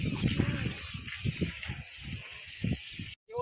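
Water from a borewell gushes in a continuous hissing stream, while a person talks over it in short bursts close by. A brief dropout comes near the end.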